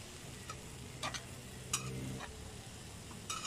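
Vegetables with a little dried fish stirred in a pot over a campfire-style outdoor cook, a low simmering sizzle with a few scattered scrapes and clinks of the spoon, fairly quiet and close, no talk.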